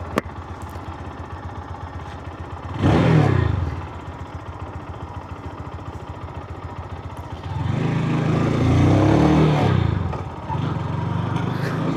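Engine of a GPX Demon motorcycle while riding, a steady drone that swells louder twice as the throttle opens, with wind rush throughout.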